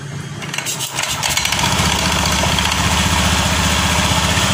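A small Honda Scoopy eSP motor scooter engine, fitted with new clutch shoes, cranks and catches after a second, then settles into a loud, steady putter close by.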